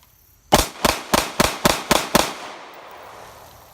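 A Glock 19 Gen 5 pistol is fired at a shooting range in a rapid string of seven loud, evenly spaced shots that end with a short fading echo.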